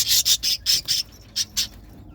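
Button quail chicks chirping in a series of short, high, close peeps, about seven quick calls in bursts with brief gaps, over a quiet room background.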